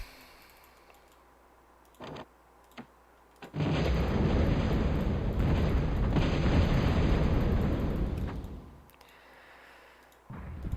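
Bombing explosions in the ProTA real-time strategy game: a few faint clicks and short pops, then a loud, dense rumbling barrage of blasts lasting about five seconds before fading out.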